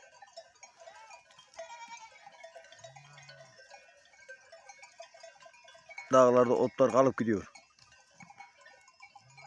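Sheep grazing on a mountain pasture let out a short burst of several loud bleats midway, over faint tinkling bells and quiet outdoor ambience, while someone talks nearby.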